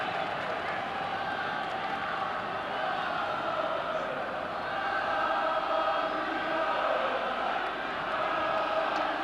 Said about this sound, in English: The crowd are really getting behind Watford now.